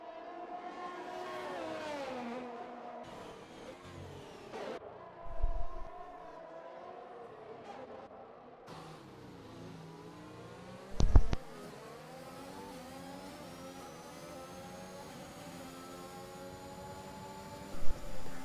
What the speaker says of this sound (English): Got a train of 4 cars here, all battling over the final podium spot.